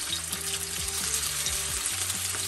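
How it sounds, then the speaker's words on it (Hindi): Chicken and shrimp fry in vegetable oil over medium flame, a constant close, bright sizzle with a faint low tonal hum running underneath, no talking. "मीडियम फ्लेम पे हमें चिकन और श्रिम्प फ्राई करना है।"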